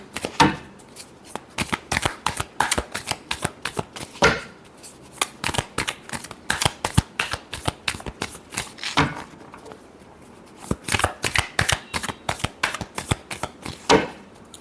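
Tarot cards are shuffled by hand in bursts of rapid riffling and flicking clicks, close and fairly loud, with short pauses between rounds and no talk over them.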